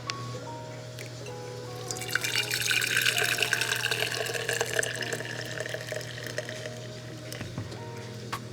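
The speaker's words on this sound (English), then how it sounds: "Here is the milk. I'm going to pour it through the strainer." Milk pours through a kitchen strainer in a steady trickling stream, building to a fuller splashing flow mid-way before tapering off, moderately quiet and alone.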